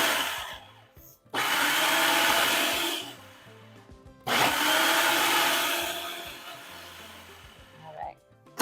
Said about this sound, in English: Now she's gonna blend that just a little bit, food process it a little bit